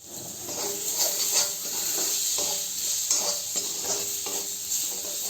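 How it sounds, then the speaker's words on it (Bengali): Chopped tomato frying with toasted whole and ground spices in a pan for dhaba-style rajma masala: a continuous close sizzle broken by repeated scraping and stirring strokes in a loose rhythm, without voices. "এখন দিয়ে দেব টমেটো"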